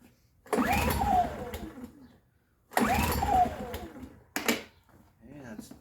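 Three recoil pulls on a Heomaito HMT 1800W dual fuel propane and gas generator with strong compression, each a rising mechanical whir and rattle that fades as the engine fails to catch, close and alone.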